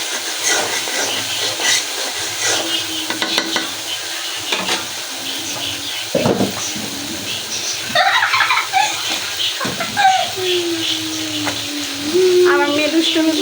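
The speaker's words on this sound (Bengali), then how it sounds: "মাছগুলো ভেজে নিলাম, আর পাবদা মাছগুলো ফুটে" Pabda fish fry in a pan with a steady soft sizzle and hiss, broken by clinks and scrapes of a utensil, while a voice speaks now and then in a home kitchen.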